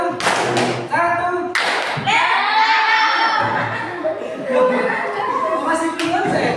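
A classroom of students claps on command, with sharp bursts of hand claps alternating with a teacher's voice and children's voices, loud and close in a lively indoor room.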